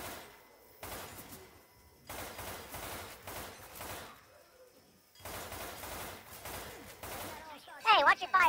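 Bursts of gunfire in Left 4 Dead 2 come in sustained rattling volleys with brief gaps, and players talk over and between the shots.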